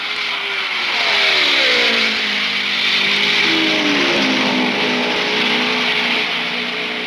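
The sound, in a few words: IndyCar race cars racing at the 1975 Indy 500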